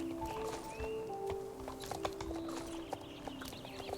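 Hooves of a horse in a video game clip-clop in a quick, regular rhythm, close and fairly quiet, with faint game sounds around them.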